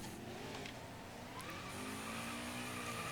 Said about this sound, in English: Why is the car spinning?